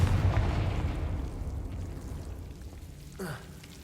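A Confringo fire spell blasts in the video game Hogwarts Legacy with a deep, rumbling explosion that starts loud and slowly decays, followed by a brief swooping whoosh near the end.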